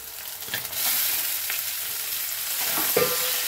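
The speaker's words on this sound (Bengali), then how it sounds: "এবারে আমি খুব ভালো করে এগুলো একসঙ্গে নেড়ে নেব, মিশিয়ে নেব।" Pasta and fried vegetables sizzle steadily in a pan while a utensil stirs them, giving a few soft scraping strokes over the constant hiss.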